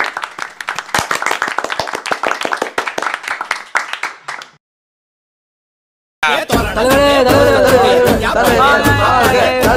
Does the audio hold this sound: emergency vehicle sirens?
no